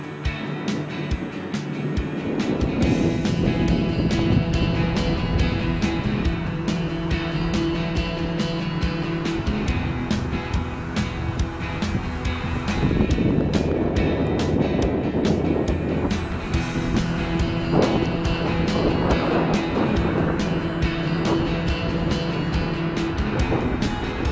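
A Hobby King Piper J-3 Cub RC plane flies outdoors in wind, its small electric motor buzzing steadily and rising and falling in pitch as it passes closer and farther, loud and continuous without talk.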